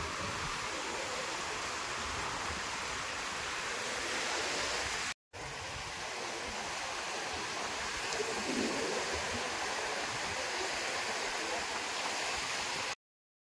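Sea surf washes and hisses continuously nearby at Revdanda beach in Maharashtra, a broad steady rush of water with a brief cut partway through.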